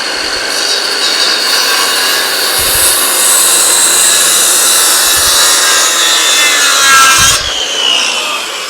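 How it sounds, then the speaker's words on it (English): A saw cuts a wooden tenon to a 1-inch depth for a sawmill-built knee brace, a loud, steady rasping whine that runs without pause for about seven seconds before easing off, with no talk. "I've set my saw. I know it's a 1-inch depth cut. So really just get your tenon."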